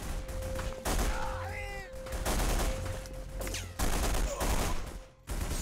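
Rapid automatic fire from an AK rifle in The Punisher video game, loud sustained bursts with brief gaps between them, mixed with game effects and faint background voices.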